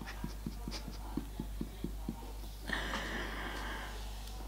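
A dog panting in quick regular huffs close by, then a sharp snort and breathy rush, with steady low hum and rain-like hiss behind.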